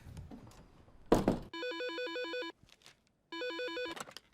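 A telephone ringtone plays as two electronic warbling ring bursts, each about a second long with a pause between them, after a brief thump and some background noise.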